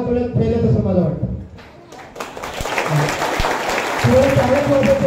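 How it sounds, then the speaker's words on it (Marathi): Audience clapping at a Guru Purnima gathering, a dense patter of many hands filling most of the clip, rising after a brief lull and continuing under a voice speaking over it. "टाळ्या वाजवा"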